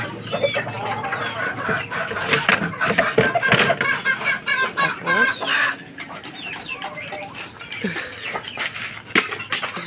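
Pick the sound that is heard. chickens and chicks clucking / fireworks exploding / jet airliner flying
chickens and chicks clucking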